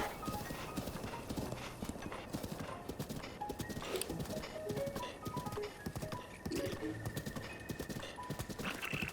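Horse hooves clip-clop in a steady rhythm in Zelda: Breath of the Wild, a continuous run of muffled beats under game music and ambience, with no speech.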